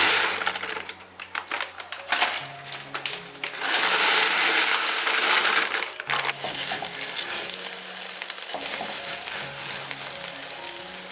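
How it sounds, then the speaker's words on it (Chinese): Coarse sea salt stirred and scraped in a clay pot, a loud, dense gritty rattle and crunch of grains shifting against the pot, near and continuous with brief pauses, no talking. "再准备一个砂锅，加入2包粗海盐"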